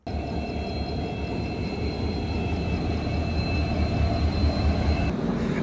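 The Dibrugarh–New Delhi Rajdhani Express runs at night near North Lakhimpur, Assam, with a steady, loud rumble of wheels and carriage noise throughout, a faint high whine above it and a brief clank near the end.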